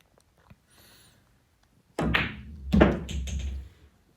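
A pool cue strikes the ball for a straight-in shot, giving one sharp close knock, then a second solid clack and a short rolling thump. Quiet room tone fills the stretch before the shot.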